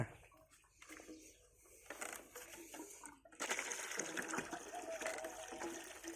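Water gushes from a manual hand pump used without electricity, a quiet, uneven stretch giving way to a louder steady splashing flow in the second half, with someone speaking faintly in the background.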